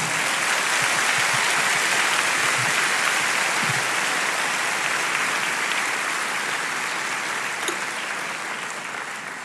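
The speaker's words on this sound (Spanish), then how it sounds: "Dele un aplauso al Señor, hermano." Church congregation applauding during a Spanish-language sermon, steady dense clapping filling the room throughout, loud and continuous, tapering slightly toward the end.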